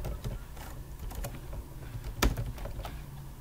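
Fingers tap quickly on a computer keyboard in short irregular bursts, with one sharper key strike standing out, all close and fairly quiet with no talking.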